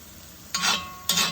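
Noodles for a green curry beef stir fry being tossed with a spatula in a hot pan, two short bursts of scraping and sizzling separated by a quieter pause.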